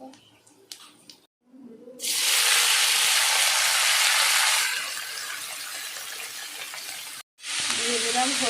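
Vegetable peels, Bengali five-spice and dry red chillies hit hot oil for a tempering, bursting into a loud, hissing sizzle that eases off. After a brief cut it flares up again, following some quiet talk at the start.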